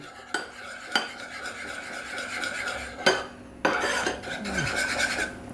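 A spoon stirs a strawberry mixture in a bowl for homemade candy, making steady close scraping and rubbing with a few sharp clinks against the bowl.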